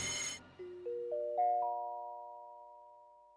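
Cartoon school emergency bell in a science lab fire scene, ringing as a series of rising chime tones that stack up and then ring out, decaying slowly after a brief burst of noise at the start.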